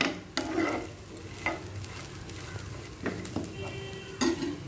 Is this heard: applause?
no